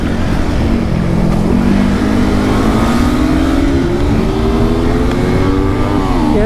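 Drag-racing car engine revving hard and accelerating steadily, loud and close, with pitch climbing continuously throughout and no talking.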